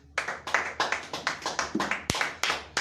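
A church congregation clapping hands in praise, a fast, steady rhythm of loud, sharp claps, roughly nine in under three seconds, with voices faintly mixed in.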